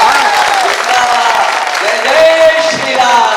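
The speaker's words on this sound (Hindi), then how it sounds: "और आखिरी लाइन पर बड़ी तालियां देखना चाहता हूं" A loud burst of applause and cheering from the audience at a Hindi comic poetry gathering, dense and continuous, with voices mixed into the clapping.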